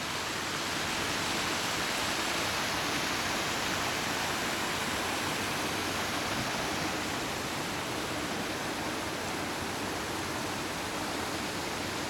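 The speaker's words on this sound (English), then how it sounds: "Yeah, these are all waterfalls and the gardens." Landscaped garden waterfalls at a beach resort in Langkawi, Malaysia, pour in a loud, unbroken rush of falling water that fills the whole stretch evenly, with no voices.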